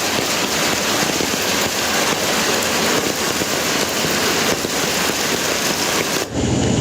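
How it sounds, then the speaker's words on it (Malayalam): A downpour lashes Idukki's hill country at night, with water running over a bridge. The constant roaring hiss of rain stays loud and close, then cuts off abruptly near the end. "പാലമൊക്കെ മൂടി ഭയങ്കരം മഴ."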